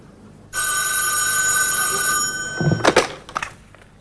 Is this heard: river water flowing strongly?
no